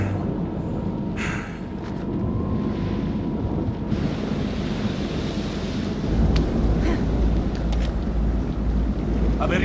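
A stormy thunderstorm scene in the video game Man of Medan: wind and crashing waves roar continuously at sea, with a low thunder-like rumble swelling near the end.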